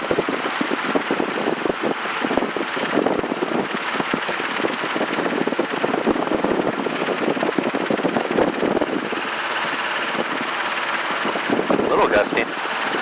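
A Robinson R22 helicopter's engine and rotors run steadily during a flight lesson, a loud, constant close-up drone heard from inside the cabin with faint radio or intercom chatter underneath.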